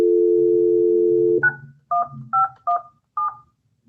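Steady telephone dial tone humming for over a second, then cut off by five distinct keypad dialing beeps in an uneven rhythm, clear and close.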